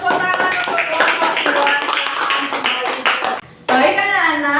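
Classroom full of students clapping for a student group after a presentation, a steady dense patter of hands throughout, mixed with children's voices, then cutting off briefly before loud speech resumes.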